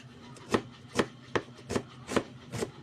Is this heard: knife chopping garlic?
yes